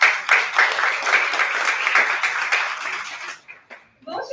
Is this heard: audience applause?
yes